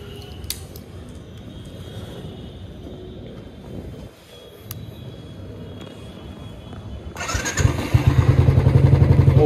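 Royal Enfield Thunderbird 350 X motorcycle starting with a clank, then the engine settling into a loud, steady, thumping idle close by after a quiet stretch of background noise.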